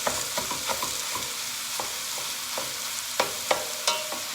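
Sausage for gravy fries in a pan with a loud, dense sizzle, punctuated by repeated scraping and tapping of a spatula stirring and breaking it up, with no voices.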